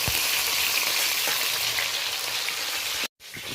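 Browned fish sizzles in hot oil in a pan, a steady close hiss that drops out abruptly near the end.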